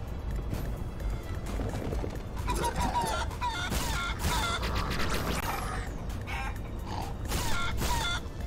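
Chicken clucking in the video game Guacamelee 2, a run of short clucks set against busy game sound effects and background noise.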